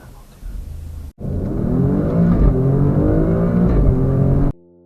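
An Alfa Romeo Stelvio Quadrifoglio accelerating hard, its engine note climbing in pitch, cutting out briefly at a gear change, then pulling strongly again before stopping abruptly; a voice is faintly present.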